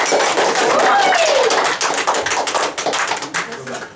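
Applause from a class of students, a dense burst of many hands clapping close by and loud, thinning into scattered claps toward the end, with some voices mixed in.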